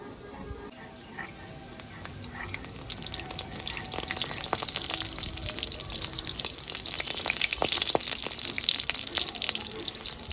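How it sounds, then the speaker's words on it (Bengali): Lentil fritters fry in oil in a wok with a continuous crackling sizzle and scattered spatters, growing slightly busier toward the end. "বড়াগুলো দিয়ে দিচ্ছি এবার"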